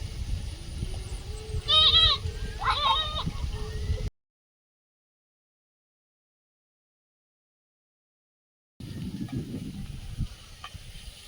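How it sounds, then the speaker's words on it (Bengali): A goat near a garden gives a couple of short bleats over outdoor background noise, followed by a stretch of silence and then more ambient sound with no further calls. "ছাগল বাগানে ঢুকতে এসেছিল বাবু তেড়ে নিয়ে চলে গিয়েছে"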